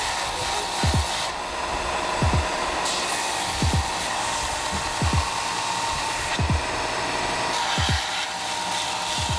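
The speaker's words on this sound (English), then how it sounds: "I'm just gonna clean up at the sander." A sander grinding the coating and surface rust off 15N20 steel runs as a steady loud whine, with repeated short low thumps and scrapes as the piece is pressed and lifted against it.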